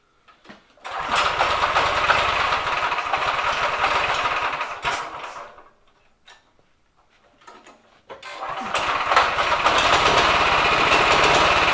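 A drift trike's small engine idles with a steady buzzing drone, cutting out briefly midway to near quiet and a few sputters before running again at a constant, close, loud idle.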